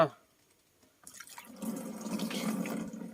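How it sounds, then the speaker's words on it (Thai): Water being scooped outdoors while preparing to spray a mango orchard against flower-eating caterpillars, a steady splashing and pouring wash that starts after a second of near-silence and continues loudly to the end. "ตักน้ำนะครับ"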